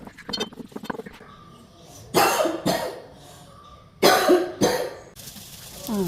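Someone coughs in sharp bursts while spice powders roast in a home kitchen, two pairs of loud close coughs separated by quieter clinks and movement.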